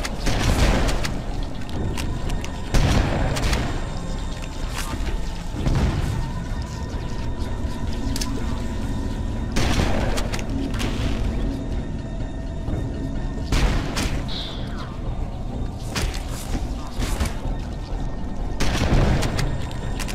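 Shotgun blasts firing buckshot in Halo: Combat Evolved, heavy booming shots repeating every second or two with mechanical reload clacks between them, loud and close throughout.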